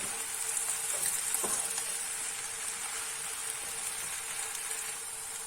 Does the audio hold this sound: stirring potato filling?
yes